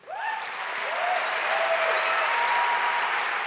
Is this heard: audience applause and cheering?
yes